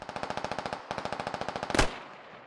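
Automatic gunfire in the video game SquadOps: two fast rhythmic bursts of rapid shots, loud and close, followed by a single sharper blast that rings out and fades.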